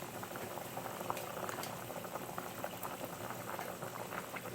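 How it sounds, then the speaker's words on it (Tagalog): Chicken tinola broth boils steadily in a pot, a continuous dense bubbling and gentle popping with no voices, close and even in level throughout. "Okay, ngayon kumukulo na po siya."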